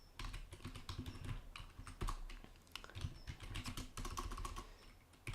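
Rapid, uneven keystrokes on a computer keyboard while entering basic C++ code in the Vim editor, close and fairly quiet, in bursts with short pauses and no talking.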